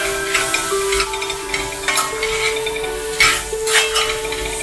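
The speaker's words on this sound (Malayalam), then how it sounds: "ഈ മഞ്ഞൾപ്പൊടി ഒന്ന് നന്നായിട്ടൊന്ന് നമുക്ക് അതിൻ്റെ ആ ഒരു പച്ചമണം പോണ വരെ നമുക്കൊന്ന് ഇളക്കിക്കിടക്കാം" Turmeric powder frying in a pan while being stirred, loud scraping and clinks of a spoon against metal repeating over a constant sizzle, close up.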